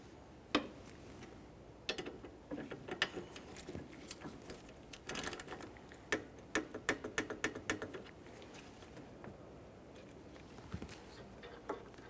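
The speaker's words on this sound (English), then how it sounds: "Got our little torque wrench here." A small torque wrench ratchets and clicks while tightening a bolt on the AC condenser of a 2002-2009 Chevrolet Trailblazer with a 4.2L inline-six. The close, irregular clicks and taps stretch across the whole stretch, with no talking.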